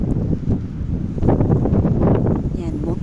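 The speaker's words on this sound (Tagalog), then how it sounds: "Malakas ang hangin." Strong wind buffets outdoors with a loud, continuous low roar and rumble across the microphone, with a voice calling out briefly.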